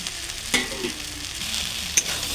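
Soybean chunks being stirred into a frying ginger-and-turmeric masala in a pan, a steady close sizzle broken by two sharp utensil clinks and soft scraping.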